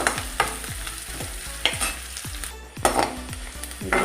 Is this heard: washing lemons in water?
no